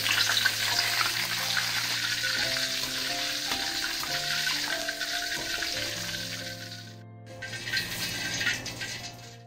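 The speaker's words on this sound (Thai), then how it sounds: "ใบมะกรูดนะคะลงไปทอดค่ะ" Kaffir lime leaves fry in hot oil with a loud, dense, continuous sizzle, close up, easing briefly near the end before surging again; no one speaks.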